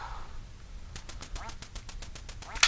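A rapid run of electronic duck quacks from a Nintendo Power Pad video game, evenly spaced and fairly loud, with a sharp burst at the end.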